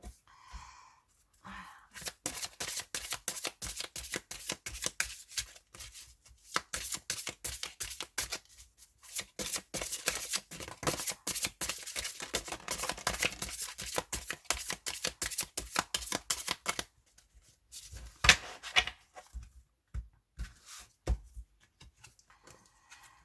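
Oracle cards being shuffled by hand for a card reading, a long run of quick, soft riffling flicks close by, with a pause and a few scattered slaps near the end.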